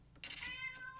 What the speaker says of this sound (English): If you can hear my cat Thomas in the background